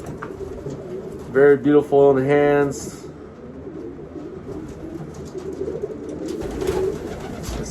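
A racing pigeon, a first-year breeding hen, gives a brief burst of throaty cooing close by, then the sound drops to a quieter loft murmur while someone talks.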